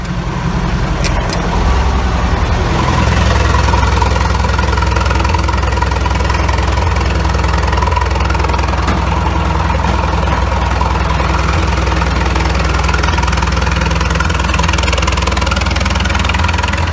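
An LTZ T-40AM tractor engine idles steadily after a cold start at minus 30 degrees, a loud, continuous low rumble with a slightly knocking diesel rhythm, close by and without voices throughout.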